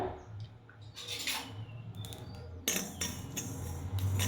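Mustard seeds crackling as they roast in a pan over a low flame, with scattered sharp pops and ticks that thicken toward the end over a faint background hum.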